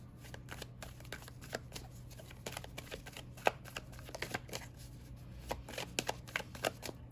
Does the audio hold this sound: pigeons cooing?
no